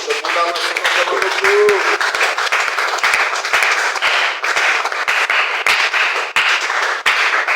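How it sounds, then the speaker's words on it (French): A church congregation applauds for the Scriptures, a loud, sustained burst of dense clapping from a crowd indoors with voices calling out at the start. "On acclame pour les Écritures."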